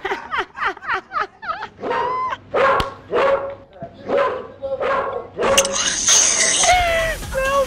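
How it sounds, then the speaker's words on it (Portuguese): Two small dogs yip and bark in quick repeated bursts close by, the calls rising into higher whining yelps, with voices talking around them. "Olha, menina, os dois cachorrinhos."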